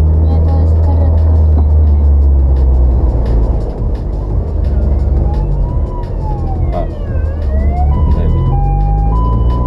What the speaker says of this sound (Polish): Nie, to jest karetka.